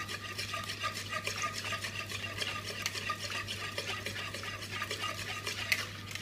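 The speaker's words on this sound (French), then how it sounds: "et on les mélange" Eggs, milk, oil, salt and pepper are beaten together in a bowl, giving a steady, rapid scraping and tapping of a whisk against the sides, fairly quiet over a low constant hum.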